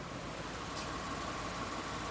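A 2007 Lexus GS 350 with a 3.5-liter V6 runs at a smooth, quiet idle, a soft steady hum with no talk over it.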